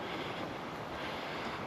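Wind rushes steadily over a hiking trail through trees and flowering plants on Rurutu in the Austral Islands, a brief, soft broadband whoosh buffeting the microphone.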